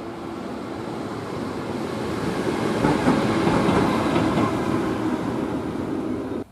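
A rolling highway (RoLa) freight train rumbles past on the Brenner northern ramp at a steady moderate volume, a broad continuous roar of rolling wheels that swells slightly midway before cutting off.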